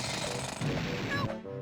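Bill Drill move in the video game Banjo-Tooie drilling a boulder, a loud rapid mechanical rattling burst like a jackhammer, ending in a short crunch and fading game effects.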